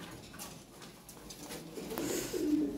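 Lahore Siraji pigeons coo softly in a pen, low throaty murmurs rising slightly toward the end, close by and fairly faint, with no talking.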